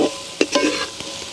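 Onions sautéing in a pan for a lobster gravy at a village outdoor kitchen: a close, bright sizzle with a couple of quick spoon scrapes as they are stirred, no voices.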